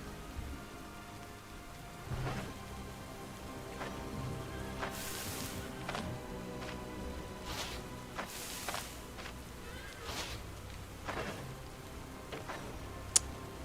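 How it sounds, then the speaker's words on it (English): Steady rain falls in the dark fantasy RPG Stoneshard at night, a continuous patter with scattered sharper drops and ticks over a low ambient bed; no voices. "Of course it's raining."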